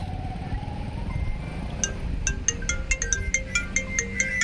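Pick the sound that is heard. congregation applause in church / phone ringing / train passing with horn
phone ringing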